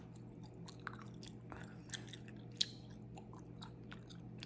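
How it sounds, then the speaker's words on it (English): Gum being chewed close to the mic while a grocery list is written, giving soft wet clicks and smacks in an irregular rhythm over a steady low hum, with a few sharper snaps standing out. "chewing some gum"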